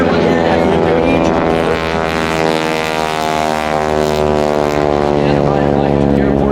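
A North American AT-6 Texan warbird propeller plane performs at the MCAS Miramar airshow, its radial engine droning loud and steady with a rich harmonic buzz, a narrator's voice running over it.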